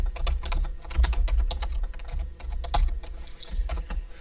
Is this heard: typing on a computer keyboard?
yes